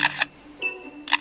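A bird imitates a camera: two quick, bright shutter-like clicks, a thin whirring tone like a film winder, then another click, near and clear with no talking.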